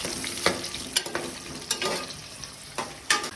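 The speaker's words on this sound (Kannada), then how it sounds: "ಈರುಳ್ಳಿ ಬ್ರೌನಿಷ್ ಬರೋವರೆಗೂ ಏನು ಮಾಡಬೇಕು, ಸ್ವಲ್ಪ ಫ್ರೈ ಮಾಡ್ಕೋಬೇಕು" Onions frying in a pan for home-style chicken biryani give off a broadband hiss, punctuated by a handful of sharp stirring scrapes and clicks at irregular intervals, with no talking.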